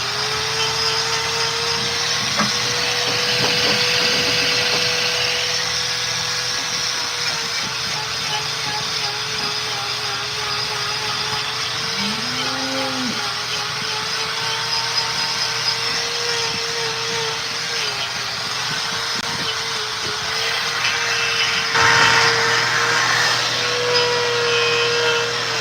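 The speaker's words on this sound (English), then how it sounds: "A lot of times we'll just pop them with the grinder and they'll bounce right out." A power grinder works on a horse's hoof, a steady droning whine running throughout at close range with slight pitch shifts and brief bumps as it pops stones from the hoof.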